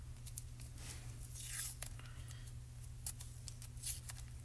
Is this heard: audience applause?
no